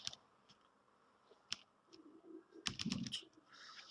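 Typing on a computer keyboard during a programming lesson, scattered faint clicks and then a brief quick burst of keystrokes, close and quiet with no talking.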